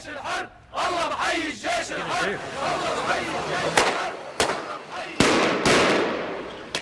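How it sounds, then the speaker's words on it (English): Fireworks set off to signal an evening protest in Zabadani, Syria, sharp bangs and crackling bursts cutting through a loud shouting crowd. "The fireworks were to tell people it was time for the evening protest."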